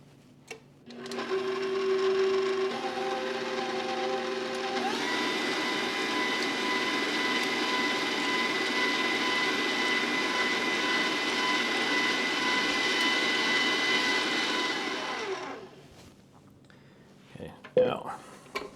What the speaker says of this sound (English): two teaspoons of vanilla, just gonna mix this up.